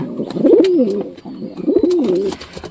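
Giribaz pigeons coo close by in two rounded, throaty phrases, each a rising and falling warble separated by a short pause, with a faint background hiss.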